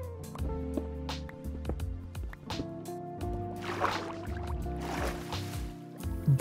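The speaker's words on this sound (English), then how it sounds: "I think I can hear some water" Underground water flowing in a Minecraft cave, a steady watery trickle with faint drips running throughout alongside layered game background music.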